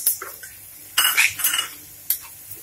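A spoon clinks and scrapes against a pan while washed poha is stirred with turmeric, in a few short bursts over a quiet background.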